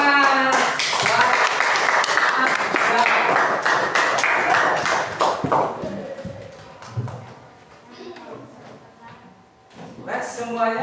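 A primary school class in a sixth-grade maths lesson clapping hands together for several seconds, a dense burst of claps that then fades as a teacher's voice continues.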